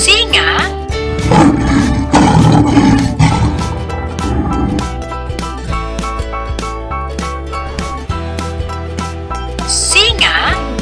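A toy lion plays a loud recorded roar, growling bursts layered with music and a voice speaking over parts of it, ending in a short chime.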